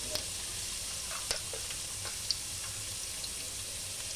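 Cumin seeds sizzle in hot oil in a pan, a steady, quiet hiss with a few faint crackling pops.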